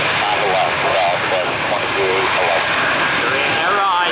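A steady, loud jet airliner engine roar during takeoff in Atlanta fills the scene, a constant broad rumble and whine with a person talking over it.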